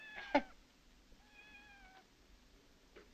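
A cat meows twice, a short sharp cry followed by a longer drawn-out meow, moderately close in an otherwise quiet room, with a faint third mew at the end.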